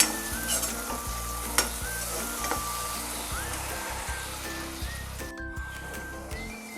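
Tomato and soybean kheema masala cooks in a pan with a soft, continuous sizzle and bubbling, broken by a few light utensil clinks and scrapes over a low background hum.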